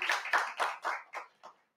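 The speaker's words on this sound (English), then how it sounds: "Let's give her a hand clap, yes?" Six distinct hand claps ring out in an even rhythm, close and clear, with the last one fading softer, applause offered to a studio guest.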